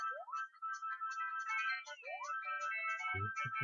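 Bright electronic game music from Poochy & Yoshi's Woolly World, a chirpy melody with sliding upward swoops, quiet and alone, with a couple of low thuds near the end.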